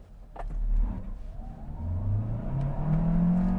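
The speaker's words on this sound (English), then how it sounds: "that was a little bit of wheel spin there" Kia Carnival Hybrid minivan with a six-speed automatic and front-wheel drive accelerates hard with brief wheel spin, its engine note climbing steadily in a loud, close, continuous rise.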